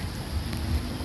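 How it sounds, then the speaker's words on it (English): Steady rain falls on a harbor walkway as a continuous soft hiss with faint low rumbling, with no voices. "It's only rain right now"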